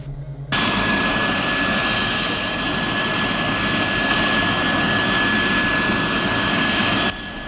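An F-116 hypersonic jet fighter roars past in a sustained, loud, broadband engine rush that swells in at once and holds steady for several seconds before cutting off, with a thin high whine running through it.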